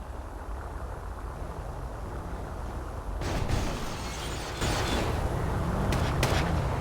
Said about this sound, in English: The interview is cut short by gunfire, however.